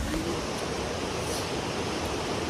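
Steady broadband rush of flowing water at a hillside picnic spot, continuous and fairly loud with no break, close to the microphone and without voices.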